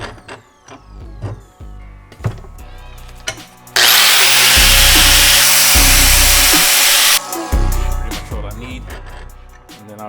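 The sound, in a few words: power tool smoothing rough edges of a Harley clutch part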